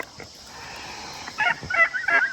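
Farm geese give a few short, honking calls in quick succession near the end, fairly close, over a quiet hiss of background noise.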